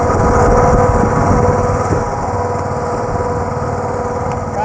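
A boat engine with a fault runs on the Narmada river, a loud, steady high-pitched drone with an even idling hum throughout and no talk.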